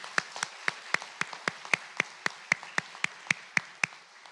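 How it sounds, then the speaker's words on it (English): Sparse, slow applause from an audience at a university event, with single claps landing in a steady rhythm about four times per second, each sharp and distinct rather than merging into a roar, moderately loud with no voices. "Let's give them a round of applause."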